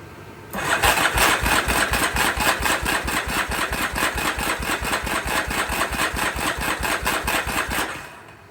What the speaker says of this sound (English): I got the throttle wedged wide open. And we're going to look at this and crank it over.